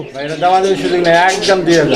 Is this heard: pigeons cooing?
yes